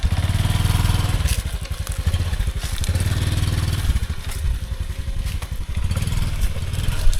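A motorcycle ridden along a countryside forest track in the afternoon heat, its engine a steady close rumbling drone with rattling clatter over uneven ground, running continuously throughout.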